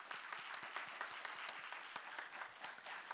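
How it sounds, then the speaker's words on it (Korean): A church young adults' congregation applauding in encouragement for newly appointed group officers, a steady, even patter of many hands heard from a moderate distance, quiet and unbroken, with no talking over it. "격려와 또 응원의 박수 한번 이 시간 해주시면 좋겠습니다."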